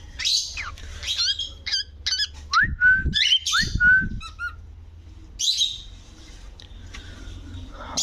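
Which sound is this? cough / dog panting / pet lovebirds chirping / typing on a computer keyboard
pet lovebirds chirping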